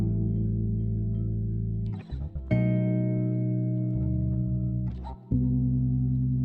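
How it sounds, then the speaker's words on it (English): A guitar starter melody sample for a beat, with low, sustained, warm tones that shift between a few held notes in a slow loop, steady and unaccompanied. "he's sent a guitar starter here that sounds like this"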